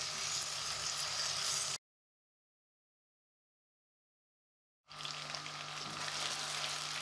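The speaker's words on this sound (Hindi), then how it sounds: "अब इसको अच्छे से फ्राई करेंगे, तकरीबन 8 से 10 मिनट तक इसको फ्राई करेंगे" Chicken pieces fry in a pot for korma, giving a steady, close sizzle that cuts to complete silence for about three seconds before resuming just as evenly.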